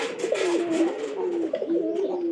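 A newly brought pigeon cooing steadily in its loft, a close, continuous rolling coo with rhythmic pulses running the whole time, no voices.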